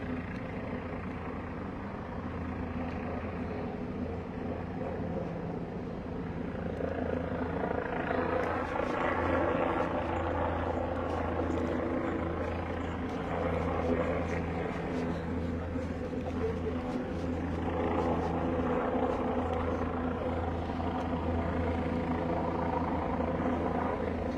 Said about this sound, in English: Then we got a helicopter, ghetto bird flying over the area too.